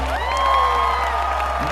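Crowd at a comic-con cosplay contest applauding and cheering, with whoops and shouts over steady clapping, while a tonal music-like drone runs underneath.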